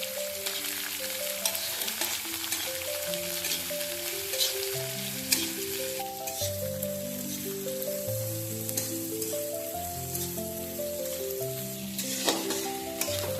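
Chopped onion sizzles with peanuts, chilli and curry leaves for Maharashtrian kanda poha, a constant crackling fry with occasional stirring, while soft tonal music plays underneath.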